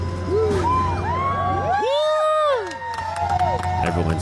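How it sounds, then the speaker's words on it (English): A community crowd cheers and whoops loudly as a killer's house is torn down on Haida Gwaii, with excited shouts and children's voices rising and falling together over a constant machinery rumble. "Everyone's cheering now."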